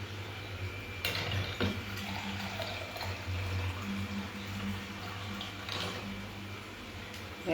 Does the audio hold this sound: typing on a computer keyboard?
no